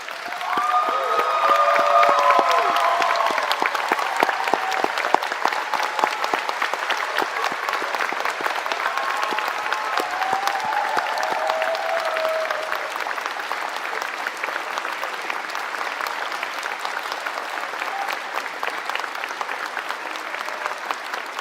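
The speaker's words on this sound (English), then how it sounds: "give yourselves the biggest round of applause" Sustained applause from a standing audience at a college convocation ceremony fills a large hall, dense and steady throughout with scattered whistles and cheers early on.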